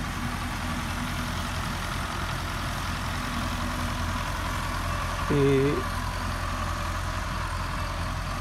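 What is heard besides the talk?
Belarus tractor engine idling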